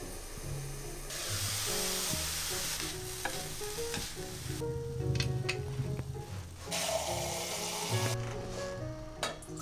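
Broccoli steams under a lid with salt koji and olive oil, giving a steady close sizzle and hiss with stirring and clattering kitchen noises throughout.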